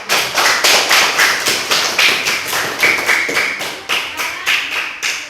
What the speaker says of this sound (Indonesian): Ayo, semua tepuk tangan untuk kelompok 3.